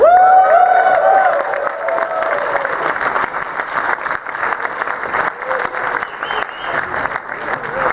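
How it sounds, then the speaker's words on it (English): Audience at a convention closing ceremony breaks into a big, sustained round of applause with some cheering, loud and close at first and holding steady throughout, with voices mixed in. "that big round of applause is for you guys who made this year amazing"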